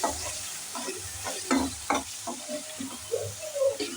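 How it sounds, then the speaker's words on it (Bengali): Spices being stir-fried for chicken haleem with chili powder and salt, a spoon scraping and stirring in bursts over a low sizzle, close and moderately loud, with no talking. "একটু ভালো করে একটু মশলাটা কষায় নিব"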